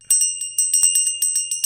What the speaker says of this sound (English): this is his bell.